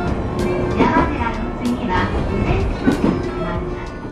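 A local train rolls through the mountains toward Yamadera in Japan, its steady rumble and rhythmic rail clatter heard from inside the carriage, loud and continuous, with faint voices under the noise.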